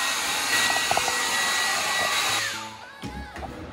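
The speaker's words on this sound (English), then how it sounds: "To dry her up a little faster, we're gonna use a blow dryer." A blow dryer runs loud and close while drying a wet dog after a bath, a steady whooshing roar with a few brief clicks, its pitch shifting near the end as it is moved or switched, with no talk.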